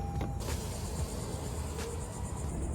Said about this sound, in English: All right, we're gonna roll the window down.